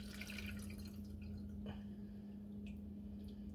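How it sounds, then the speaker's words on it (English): Steeped coffee drips and trickles through cheesecloth and a strainer, soft wet patters over a steady low hum, close and quiet with no talking. "we're just gonna strain it through the cheesecloth and then through the strainer and cheesecloth"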